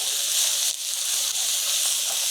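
Onions stir-frying in a pan until golden or browned, giving a steady, close broadband sizzle that runs without a break, with a couple of slight dips as the food is moved.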